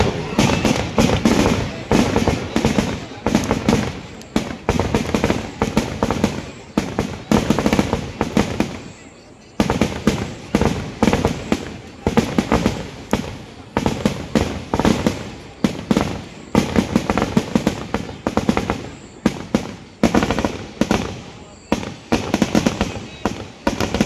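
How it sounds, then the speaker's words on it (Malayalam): Dense, rapid barrage of loud firecracker and firework bangs at a temple festival in Kerala, crackling almost continuously with a few brief pauses, booming and near. "ഇപ്പോൾ വെടിക്കെട്ട് ഇപ്പോൾ തുടങ്ങാം"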